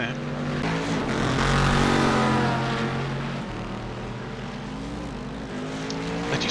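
Cadillac race car engines in the iRacing video game at Monza, a steady whining drone with shifting pitch as cars pass, under a commentator talking throughout.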